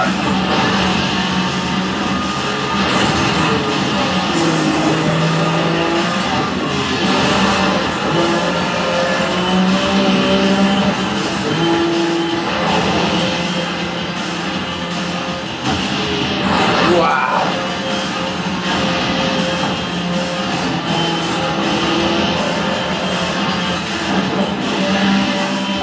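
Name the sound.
race car driving in video game Need for Speed The Run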